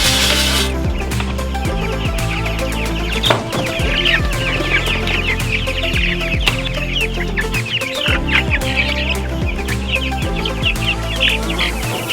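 A crowd of farm chickens clucking and squawking nearby at a processing area, dense overlapping calls over a constant mechanical hum.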